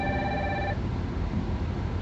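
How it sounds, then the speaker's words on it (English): An incoming call on a telephone rings with a bright, tonal ringtone through the first part, then stops, leaving a low background murmur. "if they call me again, I'm gonna have to answer the phone."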